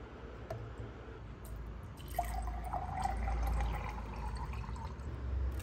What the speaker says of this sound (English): All I have to do is fill up my water bottle and I'm good to go.